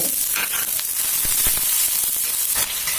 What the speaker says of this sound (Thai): เมื่อเราผัดวุ้นเส้นเริ่มที่จะนุ่มนะคะ